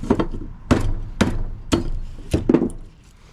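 Hammer blows on a refrigerator's metal parts while salvaging copper and steel, six sharp, loud, close impacts in an uneven rhythm, with the last two struck in quick succession.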